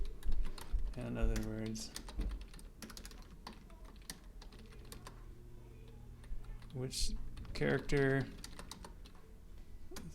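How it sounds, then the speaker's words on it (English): Someone types steadily on a computer keyboard, producing a fast run of light, close clicks throughout, while a person speaks over it in two short bursts. "it looks like you're typing"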